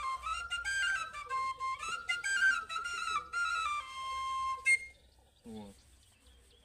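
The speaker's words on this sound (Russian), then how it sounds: "Дудочку, да, или свирель называется." A Russian folk svirel, a simple whistle flute, plays a lively melody of bright, steady tones for several seconds, then stops and a few faint noises follow.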